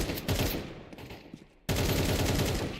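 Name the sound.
gunfire during a firefight in a video game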